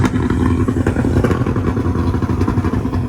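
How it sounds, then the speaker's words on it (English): A Porsche GT3 Cup race car engine roars continuously at a track day, with a rough, revving growl and some rattling clatter running throughout. "I got this GT3 cup or whatever over here. They're just revving the crap out of that thing."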